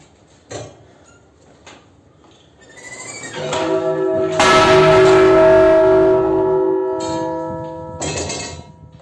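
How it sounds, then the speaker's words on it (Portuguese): A single loud church bell strike rings out and decays slowly, preceded by a few scattered knocks and clanks. "a sonoridade ao rodar dá uma única badalada"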